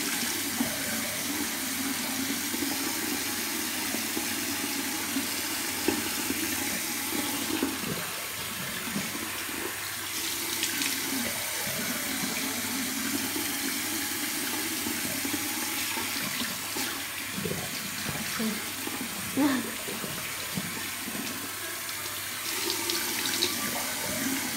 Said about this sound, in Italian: Ora mi risciacquo tutto ovviamente. Con l'acqua fredda, non troppo fredda,